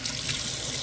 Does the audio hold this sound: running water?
yes